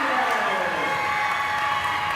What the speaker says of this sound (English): the crowd comes to life now